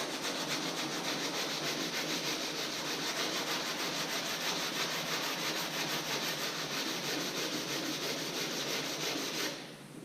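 Steady, continuous abrasive rasping as peeling paint is sanded off the body of a mini truck, a close, even hiss that runs unbroken for about nine seconds before stopping abruptly.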